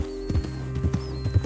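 Hooves clip-clop at a steady trot while a horse gives a short, thin whinny over the top in Red Dead Redemption 2, with a faint low hum underneath.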